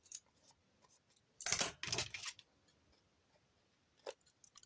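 Scissors snip through paper for a small notebook cover, with a couple of clear close cuts in the middle and a few faint snips near the end, separated by quiet pauses.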